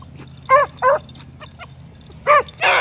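Hunting dogs on a rabbit track give four short, separate bays or yips at close range, spaced irregularly over quiet outdoor background hum.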